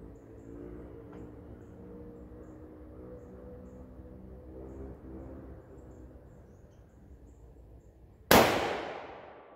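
A single sharp rifle report from a Howa 1500 firing ELD Match ammunition cracks loudly near the end, ringing out with a decaying tail after several seconds of quiet outdoor background.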